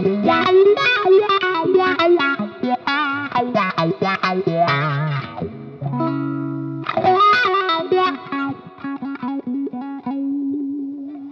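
Clean electric guitar runs through a Dunlop Cry Baby Custom Badass dual-inductor wah pedal in Red Fasel mode, the rocker swept back and forth across a busy chordal and single-note passage with vocal-like sweeps, loud and close for about eleven seconds.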